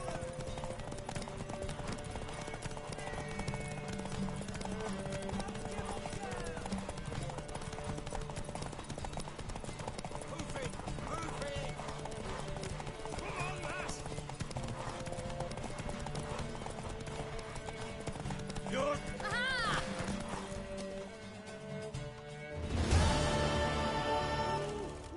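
Horse hooves clip-clopping at a steady gallop in The Witcher 3, with a soundtrack playing throughout and brief voices; the hoofbeats sit close and continuous, ending in a louder burst near the close.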